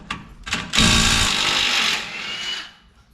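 A 14mm bolt comes off a brace under a 2021 Toyota 4Runner during an aluminum skid plate install. Two short power-tool bursts lead into a loud, sustained whirring run of about a second and a half, which then fades out.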